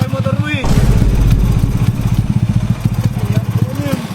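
A motorcycle engine with a rotten exhaust pipe sputters and putters in an uneven, pulsing chug close by, rising briefly to a louder run, while people talk over it.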